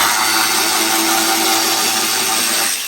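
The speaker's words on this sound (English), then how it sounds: "I'm gonna use my side ratchet to go ahead and remove this." A Snap-on side ratchet backs out a fairing bolt on a 2023 Yamaha R1M, a loud, steady, close-up mechanical whir that holds for nearly three seconds and then cuts off, with no talk.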